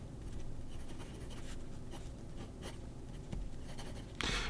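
Fine No. 6 steel nib of a fountain pen scratching across paper in a close, steady run of small strokes, with a louder scrape at the very end; no voices.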